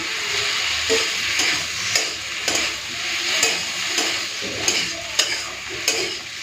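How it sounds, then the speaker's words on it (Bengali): Poppy seed paste fries with okra and potato in a pan, a steady close sizzle broken by rhythmic scraping stirs about every half second, without any talking. "পোস্তটাকে একটুখানি ঢেঁড়স আলুর সাথে ভেজে নিই তারপরে হলুদটা দেবো একটু ভেজে নিলে না খেতে ভালো লাগে"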